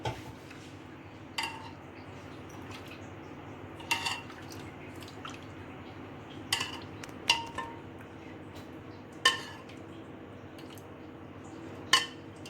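Thick restaurant-style tomato soup is served into a soup bowl, with a handful of sparse clinks and drips of a ladle against the bowl over a quiet kitchen background.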